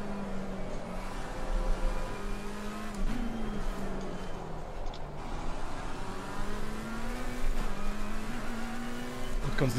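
McLaren GT3 race car at Paul Ricard in a racing video game, its engine droning steadily at high revs with a few shift-like pitch changes, loud and continuous with no talk.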